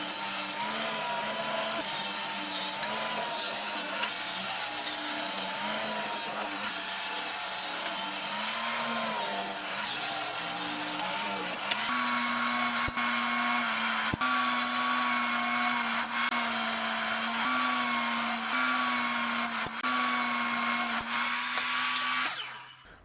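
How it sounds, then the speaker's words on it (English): A power saw in a workshop rips strips from a board for a boat cabin sole, a loud continuous whine whose pitch dips and recovers as the cut loads, then stops abruptly at the end. "I'm gonna cut out the strips from this on my saw."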